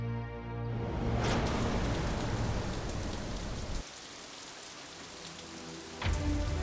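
A heavy rain shower pours down in a dense, continuous roar, easing somewhat midway before surging again near the end, with no voices.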